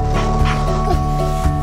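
A dog barks a few times indoors at home, sharp and close, with a slight whimpering edge between barks.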